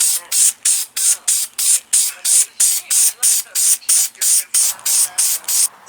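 Rapid repeated bursts of aerosol adhesive spray onto an MK4 Jetta GLI headliner, about fifteen short hissing pulses in a steady rhythm, close and loud.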